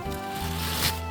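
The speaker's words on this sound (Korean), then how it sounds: "뜯을 땐 구멍난 부분을 잡고 빠르게 당기면 가위 없이도 쉽게 개봉할 수" A Coupang plastic delivery bag is torn open by hand in one quick, loud crinkling rip lasting about a second.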